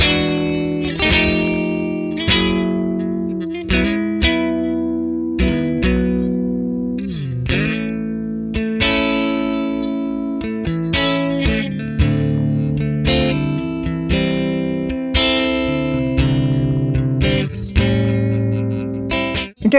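Electric guitar played through a Neural DSP compressor plugin set to extreme, sounding compressed and overdriven, with repeated plucked notes and chords sustaining evenly and close for nearly twenty seconds.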